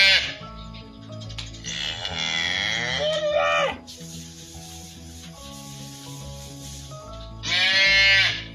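Farm cattle in a herd with a breeding bull moo loudly in several long, drawn-out calls, with sheep-like bleats mixed in, heard close and clear over steady low background sounds.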